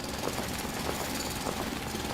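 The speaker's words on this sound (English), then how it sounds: "And let's drill this out here." Drilling through rock in the video game Foundry, a continuous grinding, rumbling mechanical drone with a steady pulsing chatter, even and unbroken from start to end.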